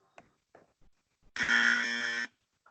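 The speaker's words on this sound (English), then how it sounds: "Push the buzzer." A few faint taps, then an electronic buzzer sounds once for about a second, loud, steady and tonal, before stopping abruptly.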